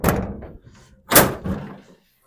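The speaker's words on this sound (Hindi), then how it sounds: "अब मैं दरवाज़ा खोलूँगा" A house door is opened for arriving guests, with a heavy close thunk, a clattering latch and handle, then a second solid knock-like thud, with no talk.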